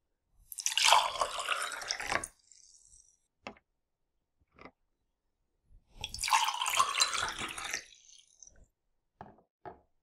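Two bursts of hot and cold water poured into glasses, each about two seconds long, with quiet gaps between them and a few small clinks and drips.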